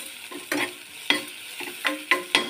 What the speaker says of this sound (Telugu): ఇట్లా వేసుకుని బాగా ఫ్రై చేసుకోవాలి